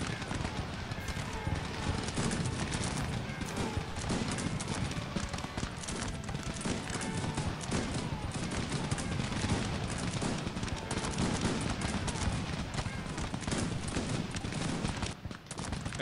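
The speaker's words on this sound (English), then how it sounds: "where they did volleys at each other." Musket volleys crackle through a Cossacks 3 video game battle between Great Britain and France, a dense continuous roar of massed gunfire and clatter lasting throughout, with faint talk mixed in.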